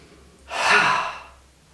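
A single forceful exhalation during a yoga breathing exercise, a sharp, breathy "ha" that rises quickly and fades over about a second. It is close and clear, against quiet surroundings.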